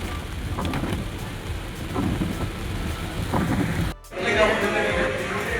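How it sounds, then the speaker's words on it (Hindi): Heavy monsoon rain in Wayanad, Kerala pours and hammers steadily on a surface nearby, with a brief dip midway before the downpour rushes back. "बहुत भयंकर बारिश हो रही है, बहुत भयंकर ज़बरदस्त"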